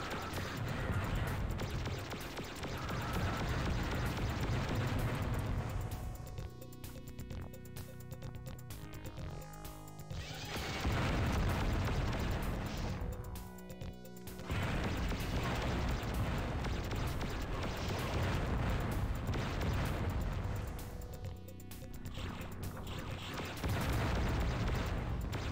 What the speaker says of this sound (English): Fusion gun, dude.